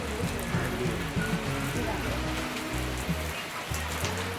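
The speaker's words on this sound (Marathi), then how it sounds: "पाऊस कसा पडायला लागलाय" Heavy rain pours down steadily on a surface, a dense constant patter, with voices talking underneath.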